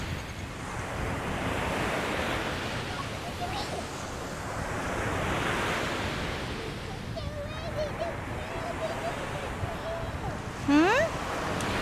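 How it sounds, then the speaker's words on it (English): Strong wind buffets the microphone on a beach, with rolling surf beneath, rising and falling in long gusts; a brief voice and a short squeak break through near the end. "So windy, so windy, so windy."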